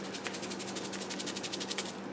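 A packet of Prince of Peace ginger honey crystals shaken briskly, a fast granular rattle with rapid regular pulses, soft and close, no voices.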